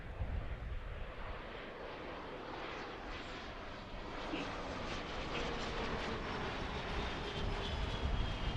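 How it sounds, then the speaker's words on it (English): An airliner comes in to land at Philadelphia International Airport, heard from Fort Mifflin as a broad, steady jet engine roar that swells slightly as it approaches, with no speech. "Hold on, we got a plane coming in."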